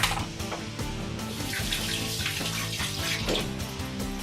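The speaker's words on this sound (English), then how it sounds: "I'm gonna rinse them off, even though they've been in this nice case." Electric mixer beaters are rinsed under a running kitchen tap. Water splashes steadily and nearby for several seconds, with faint clinks of metal mixed in and no talking.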